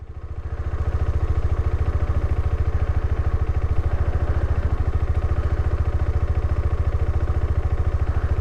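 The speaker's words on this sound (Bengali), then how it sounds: "ডমিনারটা স্টার্ট নিচ্ছিল না, একটু দাঁড়ালাম তো নিয়ে নিয়েছে স্টার্ট" A Bajaj Dominar motorcycle engine runs with a steady, fast-pulsing idle rumble. It sounds close and loud and continues without a break for several seconds.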